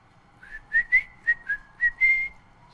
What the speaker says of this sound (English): I can still whistle